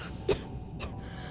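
Short cough from a dying woman miner in the Starfield game, two brief harsh bursts close up, over a low steady background hum.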